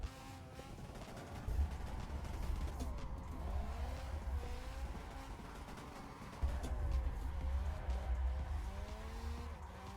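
Car drifting in the Assetto Corsa racing game, with a continuous revving engine and wavering tire squeal through long slides, the rumble swelling twice as the throttle comes on, steady and moderately loud with no speech.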